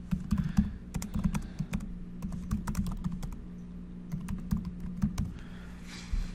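Fingers type on a computer keyboard in an irregular patter of close, crisp key clicks, coming in short flurries with small gaps between them.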